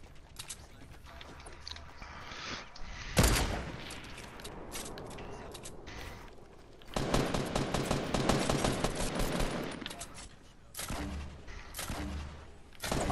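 Gunfire and rocket blasts from the Fortnite video game come in irregular bursts, with a sharp boom and then louder sustained volleys of rapid shots, fairly close with quieter gaps between.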